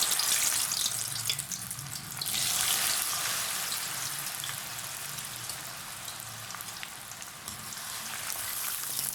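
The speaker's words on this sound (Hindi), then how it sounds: "मैंने ऑयल डाल दिया है, इसको मैं अब इसमें ये फ्राइज़ को अच्छी तरह से डाल दूँगी।" Potato fries frying in hot oil, a steady broad hiss and crackle that swells and eases slightly throughout, close and fairly loud with no voices over it.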